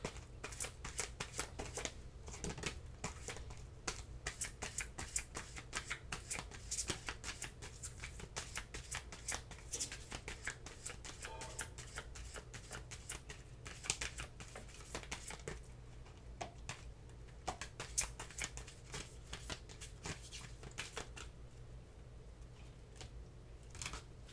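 Tarot cards are shuffled close up for the whole stretch: a long run of quick, crisp, rapid clicks and flutters, fairly quiet and steady, with no talking.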